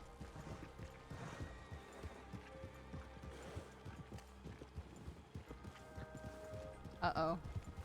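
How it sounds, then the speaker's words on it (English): Steady clip-clop of hooves with a horse snorting near the end, over continuous background noise and music in RedM, a Red Dead Redemption 2 roleplay game. "These horses, man, the way they snort. Makes so much noise."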